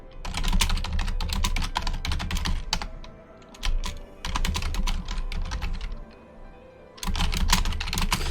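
Rapid bursts of typing on a computer keyboard during a game-development session, with keys clattering close and clear in three runs separated by short pauses.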